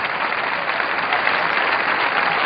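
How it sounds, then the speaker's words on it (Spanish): A church congregation claps together during a preaching service, dense steady applause filling the room, loud and continuous with no voices on top. "Denle un aplauso a Jesucristo."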